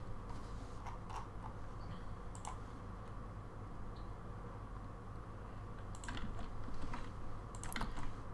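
Keys clack on a computer keyboard as a URL is typed, a sparse, close series of light clicks over a steady background hum, with a brief flurry near the end.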